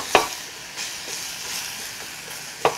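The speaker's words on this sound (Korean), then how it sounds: "이렇게 양파가 약간 숨이 죽을 때까지 이렇게 볶아주세요" Onions being stir-fried in a pot for doenjang stew, a steady soft sizzle under a few sharp scrapes of a spatula against the pot at the start and end.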